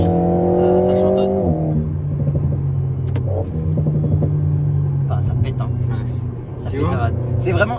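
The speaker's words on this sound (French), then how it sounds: "ça pète à chaque fois qu'on relâche l'accélérateur ou qu'on rétrograde, ça pète comme jamais" A 2022 Alpine A110S engine revs loudly and close by, its steady drone dropping in pitch as the throttle closes, followed by a rough rumbling idle with scattered exhaust pops and crackles; people talk over it.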